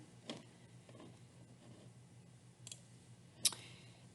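Computer mouse clicks while editing borders in Photoshop CC, a few sharp isolated clicks spread across a quiet room background, the clearest one near the end.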